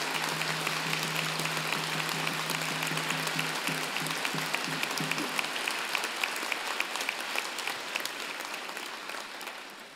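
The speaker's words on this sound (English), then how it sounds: "So I would ask you to join me and the platform party in thanking them with a vigorous round of applause." Vigorous round of applause from a graduation convocation audience, a broad continuous wash of many hands clapping that holds steady and slowly tapers off near the end.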